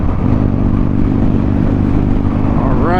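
A 2006 Harley-Davidson Street Bob cruiser engine running, a loud, close, continuous low rumbling drone under riding wind that holds steady with a slight rise near the end.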